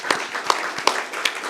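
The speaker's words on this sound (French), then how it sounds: "On peut les applaudir encore une dernière fois." A small audience claps for the semi-finalists at a regional sales excellence competition final, a few distinct claps standing out over a soft wash of applause, brief and moderately near.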